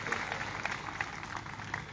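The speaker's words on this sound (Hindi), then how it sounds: "इनके लिए ताली बजाओ एक बार जोर करके।" An audience claps together in a hall, a dense, even patter of many hands sustained throughout, with a voice faintly mixed in beneath.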